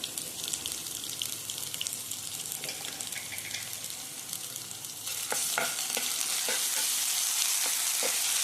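Onion, ginger and garlic sizzle in a pan for a mixed potato and cauliflower dish, a steady close frying hiss with occasional scraping stirs that grows louder and brighter partway through.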